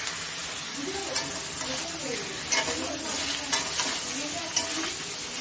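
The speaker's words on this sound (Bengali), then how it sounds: "এখন কড়াইতে যে তেল আছে তার মধ্যে আমি বেগুনটাকে ভেজে নিচ্ছি" Eggplant fries in oil in a wok after fish, a soft, steady sizzle broken by several sharp stirring clacks and scrapes, with talk faintly beneath.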